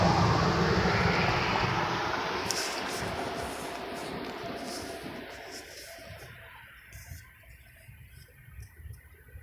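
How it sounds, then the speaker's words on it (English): Traffic roars past on a nearby road, a loud broad wash of noise that fades steadily away over several seconds, leaving faint ticks and rustles behind. "Oh, there goes traffic."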